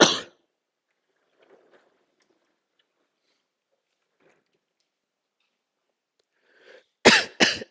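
A lecturer at a theoretical cosmology talk coughs hard twice near the end, following one earlier loud cough at the start, with faint rustles and small sounds in the quiet room between.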